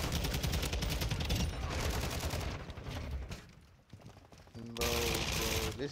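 An automatic weapon in a shooter game, the TAQ 56 rifle, fires long, loud, rapid bursts, then drops briefly before another close, dense volley with faint game tones.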